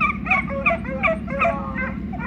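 Hunting hounds chasing coyotes through the countryside, several dogs baying and yelping in rapid overlapping bursts, loud and fairly close over a steady low rumble.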